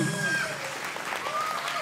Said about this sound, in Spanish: Ahí sube entonces, fuerte los aplausos, que se escuche fuerte los aplausos.